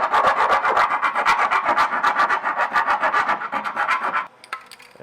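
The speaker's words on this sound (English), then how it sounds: "I'll file down the rough edges." A hand file scrapes the rough edges of a freshly drilled hole in the metal of a 2025 Toyota Corolla during a Curt hitch install, giving rapid, rhythmic rasping strokes close up that stop near the end.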